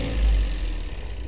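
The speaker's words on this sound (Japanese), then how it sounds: "エンジンをじゃあかけてみたいと思います。" A Caterham 7 sports car engine catches and runs, a low rumbling burst with a brief rise then a steady idle, close by.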